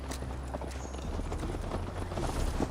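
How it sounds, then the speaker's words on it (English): Horse hooves clip-clop in a quick, steady rhythm as a mount is ridden in the video game Assassin's Creed Valhalla; the sound is fairly soft and continuous. "Mount up, Eivor. It's a long ride to Tamworth."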